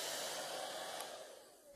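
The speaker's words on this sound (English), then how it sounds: "So we just chose to use a simple hair dryer" Steady, airy whoosh of a hair dryer blowing continuously, fairly quiet and close, fading slightly toward the end.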